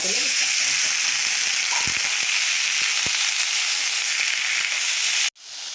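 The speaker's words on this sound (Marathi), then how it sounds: "आणि आता त्याच्यामध्ये हे चिरून धुवून ठेवलेला भोपळा" Chopped pumpkin tipped into hot oil, a loud, dense frying hiss with scattered crackles and pops, steady until it cuts off abruptly near the end.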